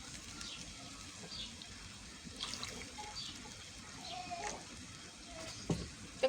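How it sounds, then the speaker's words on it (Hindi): Water is poured into a cooking pot while making kadhi, a soft uneven splashing and trickle that stays faint and close, with small clinks near the end. "तकरीबन मैंने इसमें आधा गिलास पानी का डाला है"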